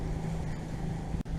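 Motorboat engine running steadily off Crete with the trim raised, a continuous low drone blended with wind and water rush, with a brief dip near the end.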